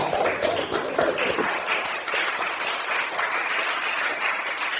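Continuous applause from a class of fifth-grade pupils, a dense steady wash of many small hands clapping, with children's voices briefly audible at the start.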